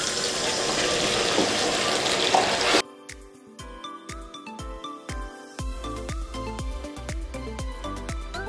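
Water poured into a hot kadai pan of softened tomatoes for a street-style Karachi kadai chicken gives a loud, steady rushing sizzle for about three seconds, then cuts off as music takes over.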